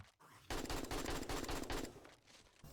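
Weapon fire in the modded survival game 7 Days To Die. A fast, loud string of repeated shots rattles for over a second after a short quiet start, then fades into quieter trailing noise.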